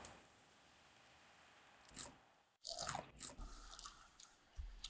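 Crisp bites into a fresh leafy salad green grown on an aquaponic farm, a few sharp crunches followed by close chewing in a quiet indoor space, with no talking.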